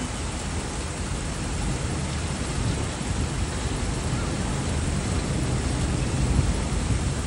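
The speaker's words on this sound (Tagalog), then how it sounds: "Gawa ng sobrang lakas ng ulan. Sobrang lakas ng ulan o." Heavy rain pouring down over a city under black clouds, a steady, dense broadband hiss that holds evenly throughout, with no talking over it.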